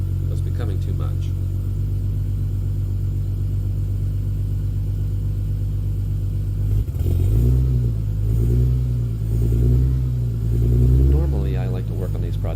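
A Toyota 2JZ-GTE VVTi engine starts from cold with a burned-oil valve stem seal problem, settling into a steady loud idle, then the revs rise and fall in several blips toward the end.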